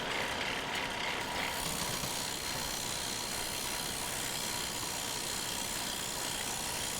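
Wood lathe spinning a swamp alder bowl blank mounted on a faceplate, a steady, dense whirring drone with a rough, scraping texture, loud and continuous throughout, with no voices.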